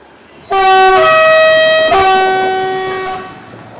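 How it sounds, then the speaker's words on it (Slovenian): A loud train horn sounds on railway tracks outdoors, two overlapping blasts of a bright multi-tone chord that start abruptly and hold for nearly three seconds before fading. "Mislim, da bi lahko bil vlak tole."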